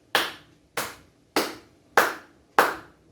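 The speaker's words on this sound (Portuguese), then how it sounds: "O meu corpo, as minhas mãos. O que é isso? Palmas." Five crisp hand claps ring out alone in an even, steady rhythm, each sharp and close with a short decay.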